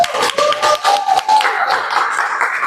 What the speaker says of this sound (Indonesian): Tepuk tangan dulu untuk kelompok mereka dan kalian semua